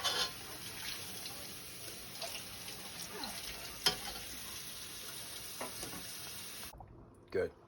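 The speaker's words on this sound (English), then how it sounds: "we're going to add in the fresh poblano and the onions. We're going to brown these up a little bit." Fresh poblano peppers and onions sizzle and fry in a hot pan, with a steady soft crackle and occasional stirring clatter throughout, fairly quiet and close, ending in a brief silence.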